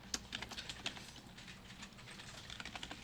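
Java code being typed on a computer keyboard, a quiet run of quick, irregular key clicks, close and faint, with no voices.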